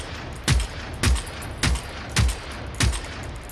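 Five evenly spaced gunshots in Generation Zero, each a distinct loud crack with a short decaying echo over a steady ambient background.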